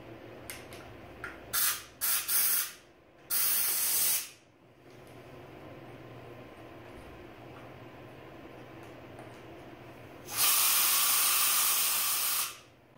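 Bursts of compressed air hiss into the carburetor bore of a lawn mower: several short, close puffs, then one long blast and a final sustained hiss, with quiet gaps between them.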